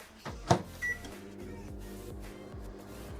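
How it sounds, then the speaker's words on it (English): A kitchen microwave oven runs with a steady low hum and a faint rhythmic rumble, after a brief clunk of the door or buttons near the start, heard close with no talking. "I will put this in the microwave"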